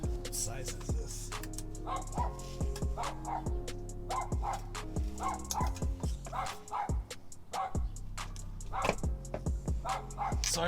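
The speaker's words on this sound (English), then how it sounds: "Sorry about the dog barking in the back of my neighbors." A neighbour's dog barks repeatedly from a nearby yard behind a garage where a transmission is being installed, sharp yips and barks scattered throughout with some whimpering, fairly loud and unobscured.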